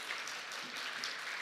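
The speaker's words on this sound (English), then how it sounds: "give a round of applause" Faint, distant applause, a crowd clapping in a continuous dense patter, with no one speaking over it.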